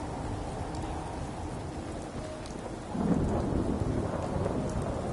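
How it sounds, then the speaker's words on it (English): Rain and thunder in the video game Fallout 4: steady rainfall hisses throughout, and a deep thunder rumble swells midway and keeps rolling to the end. "Oh my, it's raining again."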